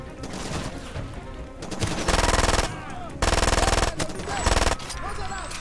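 Automatic machine gun fire in the video game FarDay 2, loud sustained bursts with pauses between them and faint game noise in the gaps.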